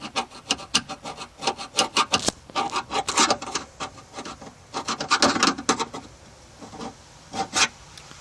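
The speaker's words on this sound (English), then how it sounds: "You rub back and forth until the metal is completely bare, like so." Rapid back-and-forth rasping as a car body's metal surface is sanded down to bare metal for a car audio ground connection, with steady rhythmic strokes close up and short pauses.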